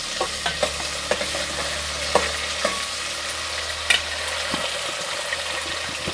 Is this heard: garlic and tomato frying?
yes